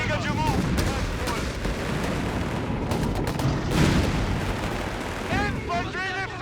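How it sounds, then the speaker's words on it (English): Small arms gunfire in the World War II strategy video game Company of Heroes 3, during the battle of El Alamein in North Africa: sharp irregular cracks and bursts over rumbling battle noise, with shouted unit voice lines mixed in. "Taking small arms fire here!"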